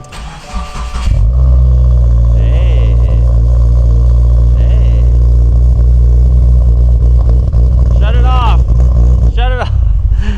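A Subaru WRX fitted with an upgraded exhaust starts up and holds a loud, deep, sustained rev close by. Brief voices break in near the end.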